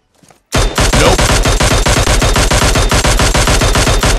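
Automatic gunfire in the mobile battle-royale game PUBG Mobile, a loud, rapid burst of shots in steady rhythm lasting several seconds after a brief quiet start, close and dominant.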